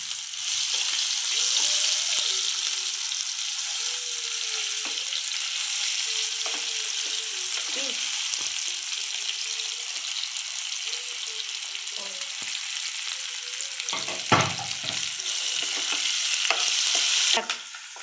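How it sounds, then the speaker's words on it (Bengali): Chopped onion fries in a spiced tempering in a wok, a loud steady hiss and sizzle with occasional stirring scrapes and clinks, and a faint voice in the background. "এই দেখো ফোড়নটা ভাজা হয়ে যাওয়ার পরে আমি এর মধ্যে কিছুটা পেঁয়াজ কুচি অ্যাড করলাম"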